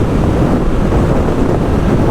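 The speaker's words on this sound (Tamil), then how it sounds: "செம்ம காற்றுங்க, ஆளை தள்ளுது." Strong wind buffets a Rode SmartLav microphone on a motorbike cruising at about 95, a loud, continuous, rumbling roar with no break.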